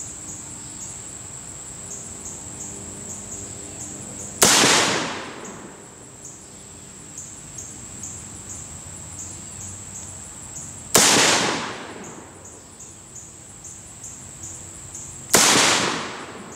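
Three loud rifle shots from an LWRC M6 A2 at an outdoor range, spaced several seconds apart, each a sharp crack that decays slowly, with a constant high insect-like whine underneath.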